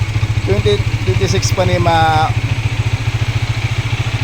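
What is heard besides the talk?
motorcycle engine idling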